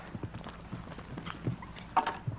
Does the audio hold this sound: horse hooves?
yes